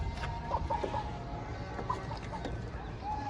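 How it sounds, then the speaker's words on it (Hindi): Ducks, both male and female, are released from a cage in a city pet yard, with steady close clucking and quacking calls from the fowl over a continuous background hum, with no speech. "फीमेल डक आ गया बाहर और ये मेल डक भी आ गया बाहर।"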